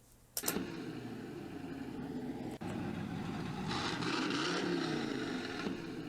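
A 16-cylinder engine kicks in with a sharp burst, then settles into a dense, steady roar with a brief dip midway, loud and continuous throughout.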